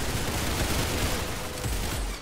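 A grenade launcher attachment fires in a Roblox shooter game, giving a dense, booming burst of gunfire and explosions that fills the whole short stretch, loud and close.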